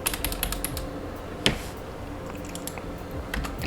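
Computer keyboard keys clatter in quick, uneven runs, soft and close, with a slightly louder key tap partway through.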